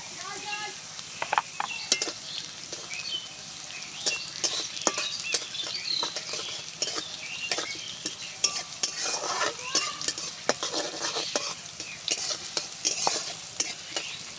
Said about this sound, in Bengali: এবার দিয়ে দিচ্ছি কালো জিরে